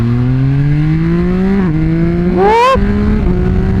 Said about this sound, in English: I'm going to start the bike up